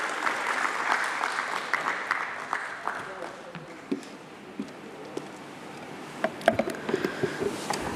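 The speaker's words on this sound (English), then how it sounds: "Let's have a huge round of applause for him" Audience applause at a Bombay Stock Exchange listing ceremony, steady clapping early that thins into scattered claps and room noise, with some talk in the hall.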